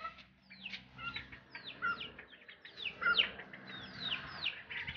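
Chicks peep in a room, a busy overlapping chorus of sharp, high, downward-sliding cheeps close by, with a few louder calls standing out over a faint low hum.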